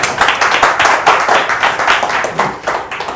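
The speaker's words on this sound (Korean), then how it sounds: "박수 부탁드립니다." Audience applause at a seminar, a steady burst of many hands clapping for about three seconds, close and fairly loud.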